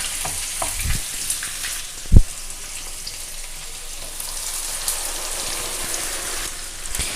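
Spices and onion frying in hot oil for a Bhola fish curry, a steady bright sizzle with a few soft clatters and one sharp knock partway through, no voices.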